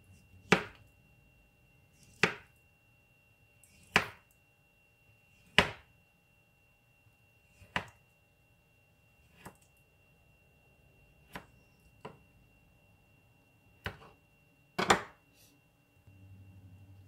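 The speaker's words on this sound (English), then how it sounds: "slice it and put it into this jar here. Just slice thin." Beets sliced thin with a knife on a cutting board, about eleven crisp chops spaced roughly a second or two apart, close and clear with no talking.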